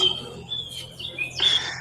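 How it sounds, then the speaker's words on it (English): Birds chirp and squawk outdoors in the background, with a few brief high calls and a louder burst near the end. Moderately distant, with no voices over them. "you can hear the birds in the background"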